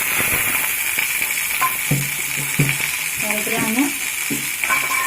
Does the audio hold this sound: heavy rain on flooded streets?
no